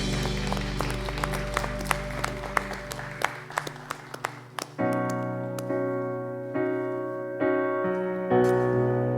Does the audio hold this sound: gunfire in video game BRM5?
no